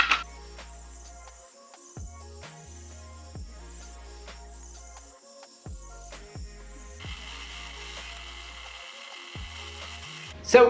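A power tool cuts OD green axe handle material in a workshop, running in repeated passes with a steady whine, the motor spinning up and down between cuts and a brighter grinding tone toward the end.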